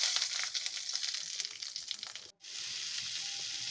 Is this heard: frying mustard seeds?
yes